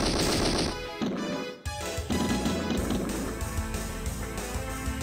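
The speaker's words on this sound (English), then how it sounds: "Go with the submachine gun next." Rapid submachine gun fire from a robot battle in the video game Medarot R, a dense continuous rattle with brief breaks, layered over game music and effects.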